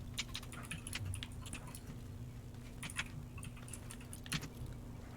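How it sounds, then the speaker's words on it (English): Typing on an extremely loud computer keyboard: rapid, uneven clicky keystrokes in bursts over a low steady hum, fairly quiet overall. "I hear some clickety-clackety. Yeah, it's me and my like extremely loud computer, my keyboard."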